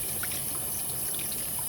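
Running water rinses acrylic paint off a palette: a steady, close hiss and trickle of water, continuous for the whole stretch, with no voice.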